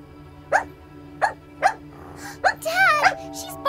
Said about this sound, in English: Dad, she's barking again.